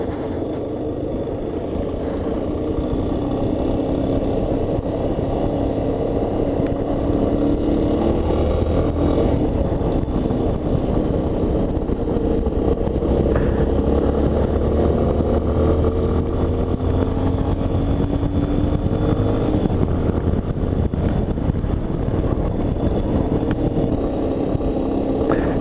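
Continuous roar of a Yamaha Ténéré 250 trail bike being ridden, engine pitch rising and falling with gear changes and throttle, loud and close, with wind noise throughout.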